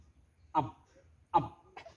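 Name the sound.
voice imitating a monkey call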